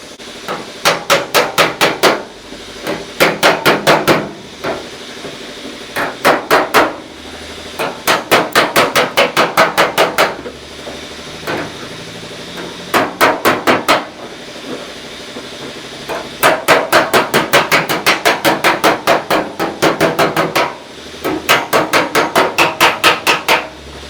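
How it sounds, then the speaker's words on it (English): Rapid bursts of metal hammering on a block against a steel car body panel of an all-steel Pro Mod drag car being straightened, loud and close, grouped in quick volleys of many blows separated by short pauses. "hammering a block over here, and we'll see if we can't get that a little straighter"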